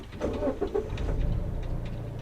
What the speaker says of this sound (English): You should be able to start the car like this.